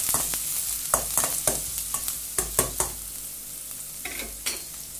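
Onion fries in oil in a kadai while being stirred for an egg bread spread: a constant sizzle broken by repeated sharp scraping strokes of a spoon against the pan.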